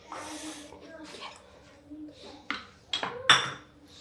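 Onion, coriander and green chili being mixed with paneer dal moth in a bowl, giving scattered clinks and scrapes of a spoon against the dish, a few louder knocks near the end, under a quiet background.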